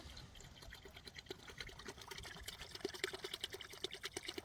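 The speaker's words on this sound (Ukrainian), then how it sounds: "і виливаємо одну літру сироватки" A liter of whey poured from a vessel into a two-liter container makes a soft, close trickling and splashing sound, gentle and continuous with small gurgling pulses and no talking.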